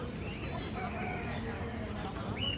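Chickens cluck and crow, with ducks, in a busy live poultry market in Fatullah, Bangladesh, several birds calling at once under a low murmur of voices and background bustle.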